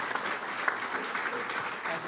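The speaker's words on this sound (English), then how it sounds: "a round of applause" Steady applause from an audience at a mayoral schools announcement, a soft even patter of many hands heard from a distance throughout.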